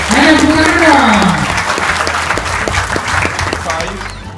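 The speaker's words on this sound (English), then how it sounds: "big round of applause for all the families here, please." Loud applause from a crowd of families at a hotel family day event, with a voice speaking over the clapping as it carries on steadily and slowly fades.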